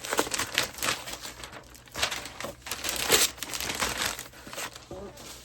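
Wrapping paper on a gift is crumpled and torn open close by, giving bursts of dense crackling and rustling in uneven waves that run throughout.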